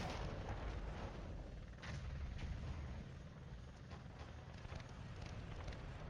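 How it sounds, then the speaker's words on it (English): Mortar fire from the Cold War wargame Flashpoint Campaigns during a night assault: a low, continuous rumble with scattered dull thuds, steady and moderately distant throughout. "Ah, they're the mortars."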